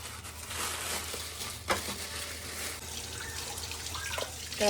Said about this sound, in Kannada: ಸಿಂಕ್ ಒಳಗೆ ಇಟ್ಕೊಂಡು ಎಲ್ಲ ಗಬ್ಬೆ ಬಿಸ್ಕೊಂಡು ಹಿಂಗೆ ತಲೆ ಎಲ್ಲ ನೀಟಾಗಿ ಕ್ಲೀನ್ ಮಾಡ್ಕೋಬೇಕು